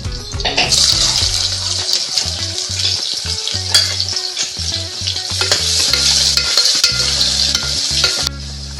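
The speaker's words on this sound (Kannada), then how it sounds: "ಏಲಕ್ಕಿ ಎರಡು ಪಲಾವ್ ಎಲೆ ಈರುಳ್ಳಿ ಹಾಕ್ತಾ ಇದ್ದೀನಿ" Cardamom, bay leaves and onion hit a hot pan for aloo matar curry, setting off a loud, steady sizzle and frying hiss with stirring clatter throughout.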